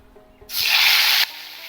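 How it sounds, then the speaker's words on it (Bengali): A sudden loud sizzle bursts out as tilapia fish hits hot oil, lasts under a second, then settles into a softer frying hiss. "এবার আমি মাছগুলো এক এক করে ভেজে নেবো"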